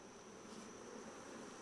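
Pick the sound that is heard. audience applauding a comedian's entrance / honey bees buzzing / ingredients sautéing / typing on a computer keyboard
honey bees buzzing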